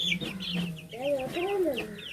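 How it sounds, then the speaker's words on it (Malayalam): A chicken clucks and squawks close by, several short, rising and falling calls in quick succession. "ഇത് എനിക്ക് ഇഷ്ടമുള്ള ഒരു കോഴിയാണ് കേട്ടോ"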